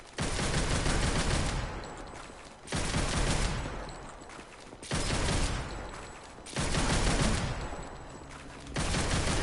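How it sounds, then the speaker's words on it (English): Rapid video game gunfire from Devil May Cry 5, loud dense volleys in four bursts separated by brief drops, close and alone with no talking. "Twirl your guns out, do the boxer back step. And then shoot things, because you're cool."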